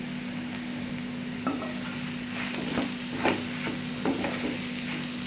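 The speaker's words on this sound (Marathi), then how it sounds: "बटाटा आपला चांगला दोन ते तीन मिनटं फ्राय केला आहे मी" Spiced potato mixture with garam masala and chili frying in a pan for tawa sandwich filling, a steady sizzle with a low hum beneath and periodic spatula scrapes and taps against the pan.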